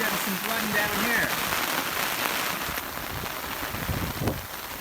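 Heavy rain pours steadily onto surfaces during a storm with flooding, a dense, constant hiss close by, with a faint voice briefly audible beneath the downpour.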